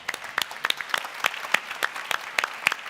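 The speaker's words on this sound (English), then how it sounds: "So let's give them a big applause." An audience claps throughout a pitch event on stage, a continuous patter of many hands at moderate loudness with no talk over it.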